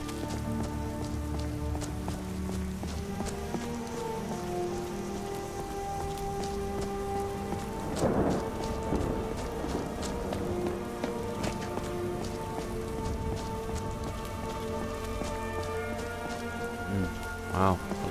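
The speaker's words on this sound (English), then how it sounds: "the rain has gone just as quickly as it came" Steady rain falling in Skyrim, an even patter on surfaces that fills the whole stretch, with soft game ambience and a faint voice in places.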